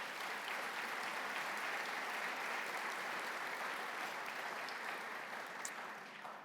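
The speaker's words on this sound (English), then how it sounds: "he starts the applause over and over again" An audience at a university president's address applauds steadily throughout, a broad, even wash of many people clapping in a large hall that eases slightly near the end.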